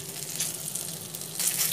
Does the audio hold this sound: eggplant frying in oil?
yes